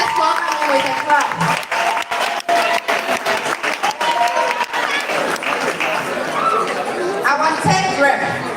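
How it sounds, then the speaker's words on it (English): An audience at a school debate event claps steadily for several seconds, a dense wash of applause with some crowd chatter mixed in. "Let's welcome him with a clap."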